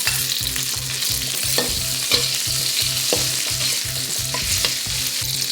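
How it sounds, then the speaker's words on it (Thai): Garlic and chili stir-fried in a hot pan, a steady loud sizzle broken by regular scraping strokes of the spatula about twice a second, with no voices. "ผัดกระเทียมพอมีกลิ่นหอมๆนะคะ"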